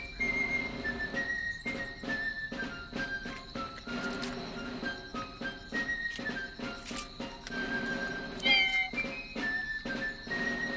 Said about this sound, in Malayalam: ഞങ്ങളുടെ പൂച്ചക്കുട്ടികളാണ് അവർ കിടക്കുന്ന കണ്ട.